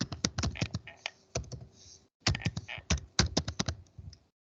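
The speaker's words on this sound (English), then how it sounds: "In the search, type it." Quick bursts of close keyboard clicks as someone types into the Windows 10 search box, irregular clusters of keystrokes with a brief pause in the middle.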